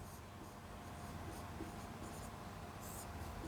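Marker or chalk scratches across a board in a classroom, faint, short strokes in a few bursts over a steady background hiss.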